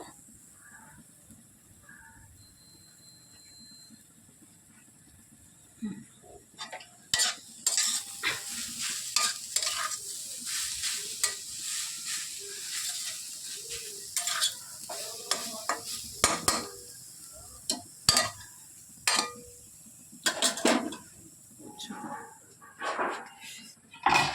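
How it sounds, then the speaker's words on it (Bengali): Potatoes stirred and fried with turmeric in a pan for Bengali vegetable chops, quiet sizzling under irregular scraping and clattering of a spoon that grows busier and louder partway through. "এবার আলুটা দিয়ে ভালো করে মিশিয়ে নেব।"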